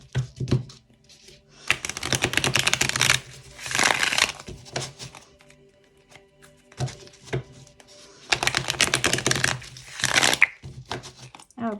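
Tarot cards being shuffled by hand in bursts of riffling and rustling, each flurry a few seconds long with quiet gaps between, close up and crisp, alongside soft incidental handling noises.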